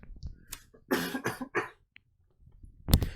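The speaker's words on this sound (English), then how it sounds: "Give me half a second to quickly clear my throat while I move this mic away from my mouth." Someone clears their throat in a few short, rough bursts close to a microphone, with quiet handling clicks between them and one last harsh clearing at the end.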